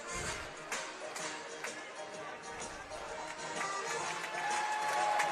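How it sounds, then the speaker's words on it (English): Applause and crowd noise at a British Basketball League championship game between the Newcastle Eagles and Caledonia Gladiators, a continuous clatter of clapping with faint scattered voices that swells slightly toward the end. "Well, appreciative crowd."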